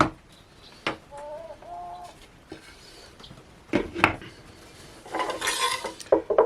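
Beef and vegetables stirred in a pot, with a few scattered metallic clinks and scrapes of a utensil against the pot, growing busier near the end; no talk.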